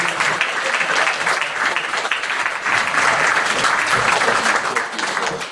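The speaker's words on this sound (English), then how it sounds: "Give him a round of applause. Here comes Wesley." A conference audience breaks into sustained, dense applause as a volunteer walks on stage for a cyber-attack demonstration, the clapping steady and full with slight swells.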